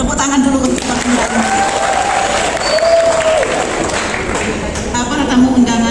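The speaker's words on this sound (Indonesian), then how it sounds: "Tepuk tangan dulu untuk Bang Indra." Audience clapping at an inauguration ceremony for a beauty-salon association chapter in Dairi, a steady wash of applause filling the hall while a voice speaks over it through the loudspeakers.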